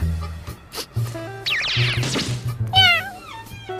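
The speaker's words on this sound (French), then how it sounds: "Oh, un chat?" A cat meows several times close by, with short, rising cries over faint background tones.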